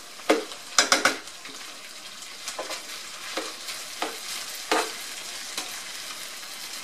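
Cooked rice tossed and stirred in a hot pan for Spanish rice, with a few sharp scraping clatters of the utensil at the start and then softer intermittent stirs over a faint, steady sizzle.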